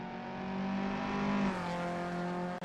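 VW Up Cup race car on the Pakisa Freeway Grand Prix circuit, a steady loud engine drone that shifts pitch midway as the car changes gear, close and continuous with no talk.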